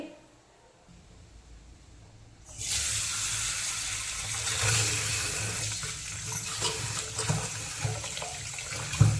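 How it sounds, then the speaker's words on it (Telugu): Rice is washed with a little salt, water suddenly gushing from a tap into the bowl after a quiet moment, then splashing and sloshing steadily and close. "ఈ బియ్యంలో కొంచెం ఉప్పు వేసుకున్నాను ఉప్పు వేసుకొని కడుక్కుంటున్నాను"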